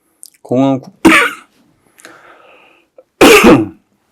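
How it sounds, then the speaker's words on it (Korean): A man coughs and clears his throat in a few sharp, close bursts in a quiet room, with brief pauses between them during a spoken Buddhist teaching. "기침이 나네요."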